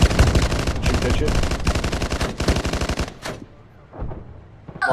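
Rapid bursts of machine gun fire aimed at a BRDM armored vehicle on a road in a Chernarus combat game, loud and sustained for about three seconds, followed by scattered fainter shots.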